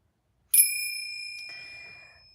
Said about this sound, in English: we enjoy ringing the bell